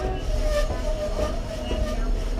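Skagway tourist train rolling along the rails at the mountain summit on the Alaska–Canada border route, a steady low rumble with faint wheel squeals and tonal rail whines throughout.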